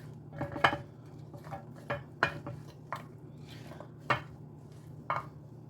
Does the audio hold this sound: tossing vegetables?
yes